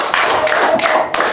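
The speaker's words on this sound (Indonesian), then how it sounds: "Kasih tepuk tangan untuk Afra." Scattered clapping from a classroom audience cheering a student named Afra, a few bursts of hand claps over about a second, moderately loud with faint background voices.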